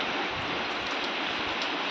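Steady rain pours down over a muddy rural road beside a swollen river, forming a dense, unbroken hiss with no voices.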